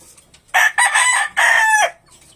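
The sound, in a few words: chicken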